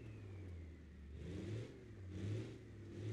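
A Silverado rock crawler with a 6.8 diesel engine in BeamNG Drive off-road at Johnson Valley, a low, faint engine rumble that revs up and eases off in a few slow swells.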